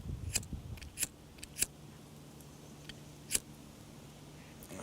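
Scissors snip dental floss on a carp hinge rig, giving a few quiet, sharp clicks scattered over a few seconds against a faint, hushed background.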